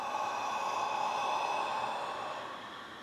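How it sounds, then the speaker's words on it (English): A steady breathy inhale through a constricted throat in Ujjayi yogic breathing, a soft continuous hiss like fogging glass, held for about three seconds and fading slightly at the end, heard alone. "that's the sound of the Ujjayi"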